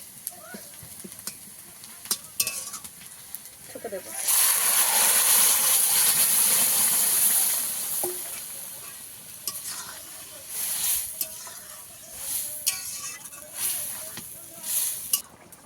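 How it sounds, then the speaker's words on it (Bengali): Onions and garlic fry in oil until reddish brown with a steady sizzle, swelling into a loud hiss midway before settling, punctuated by spoon scrapes and stirring clatter. "পেঁয়াজটা আমি এইভাবে লাল লাল করে ভেজে নিয়েছি"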